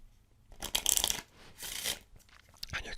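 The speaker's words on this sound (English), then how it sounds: "you can give it a shuffle" A deck of playing cards is shuffled up close, giving two short bursts of rapid riffling flutter separated by a pause, then a faint shorter rustle at the end.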